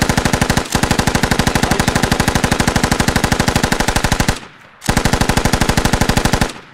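Coaxial machine gun on a BTR armored vehicle firing in the video game Squad, loud and close: long sustained bursts of rapid, evenly spaced shots, a brief pause near the end, then another burst.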